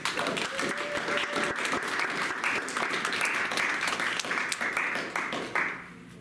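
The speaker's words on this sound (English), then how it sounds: "Please give a round of applause" Sustained applause from an audience at a magazine launch party, dense steady clapping that holds for several seconds before thinning out at the very end.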